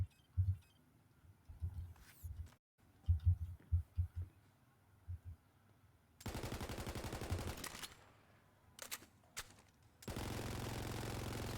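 A submachine gun firing in the Borderlands video game, with rapid dense bursts of automatic gunfire, one long burst and a sustained final stream, between quieter thumping impacts and gaps.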